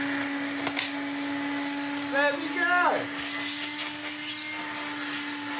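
A Hoover Hooverette vacuum cleaner converted to a cordless 20v brushless motor runs with a steady, constant motor whine throughout, with a brief person speaking partway through.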